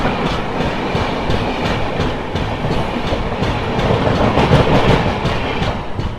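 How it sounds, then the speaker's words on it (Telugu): The Jaganmohan Express from Lingampalli to Visakhapatnam runs past loud and close, a continuous heavy roar with rhythmic clickety-clack of wheels over rail joints throughout. "ఈ ట్రైన్ వచ్చేసి జగన్మోహన్ ఎక్స్ప్రెస్ ట్రైన్ లింగంపల్లి విశాఖపట్నం."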